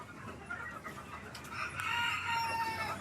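A fighting rooster crows and hens cluck, the calls swelling louder partway through over a steady low background.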